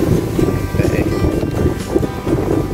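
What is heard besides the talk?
riverside ambience with wind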